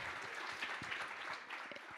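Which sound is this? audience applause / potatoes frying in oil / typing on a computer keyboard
audience applause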